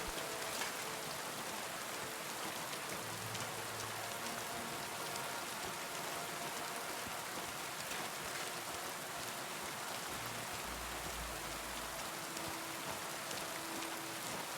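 Steady rain falls in the medieval game Kingdom Come: Deliverance II, a soft, even hiss of drops on surfaces that continues unbroken and fairly quiet, with a low hum drifting in and out beneath it.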